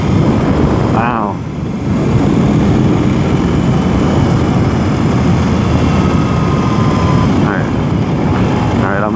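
A 2021 BMW R 18 cruiser motorcycle runs at 1500 RPM in sixth gear at about 42 mph, giving a loud, steady, low engine drone under constant rushing wind noise from start to finish.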